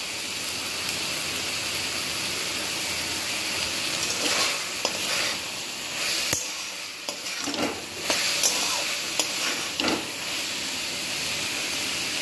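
Grated coconut goes into a frying banana-flower dish of chickpeas and coconut and is stirred, with a steady sizzle and repeated scraping strokes of the spoon across the pan, close and alone with no talk.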